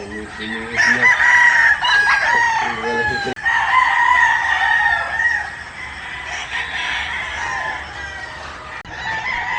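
Broodcock gamefowl on a farm crow loudly and repeatedly, the long drawn-out calls close by and overlapping, with some clucking in between.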